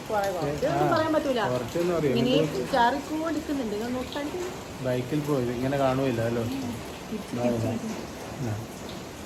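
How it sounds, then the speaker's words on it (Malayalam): Light rain patters steadily in the background while people talk over it throughout, outdoors on a morning outing to a temple. "ഇപ്പോൾ ചെറുതായിട്ട് പെയ്തുകൊണ്ടിരിക്കുന്നുണ്ട്"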